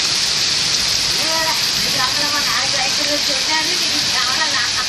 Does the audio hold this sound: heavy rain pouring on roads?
yes